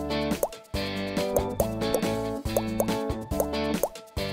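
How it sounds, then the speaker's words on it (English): Water drops fall onto colored marker drawings on paper, producing a rapid series of distinct plopping drips in irregular rhythm, close and clear with no talking. "Then we're going to take some water and put a few drops on our colors."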